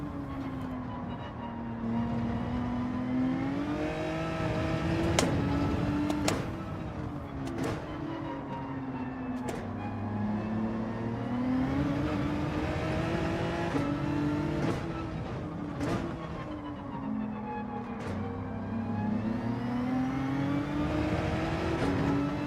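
A Genesis race car in Gran Turismo 7 accelerates repeatedly, its engine climbing through the gears with sharp shift breaks and repeated upshifts over about twenty seconds, loud and close with no talk.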